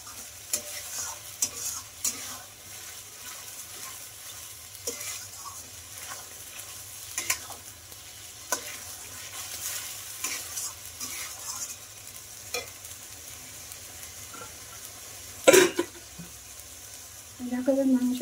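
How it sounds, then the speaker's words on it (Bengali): Spice masala being stir-fried in a pan for a goat meat (khasi) curry, a steady low scraping and stirring with soft sizzle throughout, a few louder clanks near the end, no one talking. "আমি মশলাটা আবার একটু কষিয়ে তারপরে মাংসটা ঢেলে দেবো"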